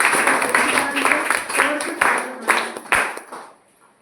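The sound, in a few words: audience clapping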